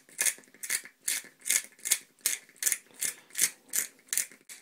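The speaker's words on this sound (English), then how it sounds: "So pull it and then just start twisting, and as you can see there's coffee filling up." A hand-cranked glass coffee grinder being twisted to grind beans, with about a dozen evenly spaced ratcheting, grating bursts in a steady rhythm, close and fairly loud, and no talking.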